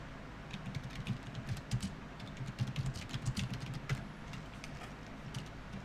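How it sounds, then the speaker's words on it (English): A loud computer keyboard clatters with rapid, irregular keystrokes, close and fairly faint, in a quick uneven rhythm with no speech. "So you're going to hear me typing."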